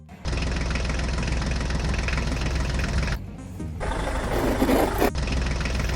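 A toy tractor's small motor runs steadily and close, a continuous buzzing drone with a brief dip in the middle before resuming, no talking.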